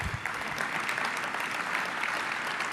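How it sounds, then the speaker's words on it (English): A downtown civic audience claps for association staff in a brief, moderate burst of applause that carries evenly through the moment. "You can clap for them, they're good"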